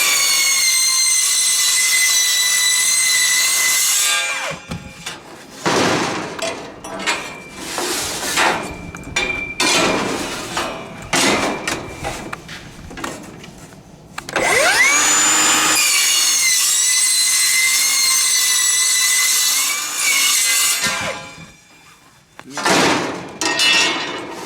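A Milwaukee metal cutting saw slices through 1.5 inch square steel tube, a loud, harsh whining cut that runs for several seconds, pauses with bumps and clatter, then screams through again in long sustained passes.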